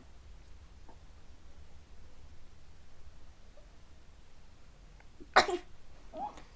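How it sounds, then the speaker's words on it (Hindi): A child's single sharp cough-like burst, followed by a softer second one, rising out of quiet room noise. "ये ना खांसी बहुत आ रही है"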